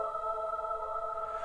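Soloed delay effect on an ambient track, sustained layered tones that hold steady and fade slightly toward the end, with no voices.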